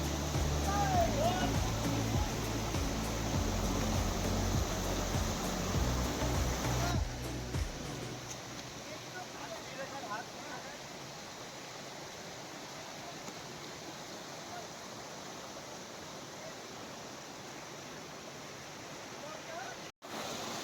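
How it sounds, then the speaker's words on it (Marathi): Waterfalls along the Harishchandragad temple to Konkan Kada trail, a broad steady rushing roar, louder at first then softer and more distant, with a voice talking over it. "एकापेक्षा एक सुंदर असे धबधबे आपल्याला त्या हरिश्चंद्रगड मंदिर ते कोकणकडेच्या वाटेवर बघायला मिळत आहे."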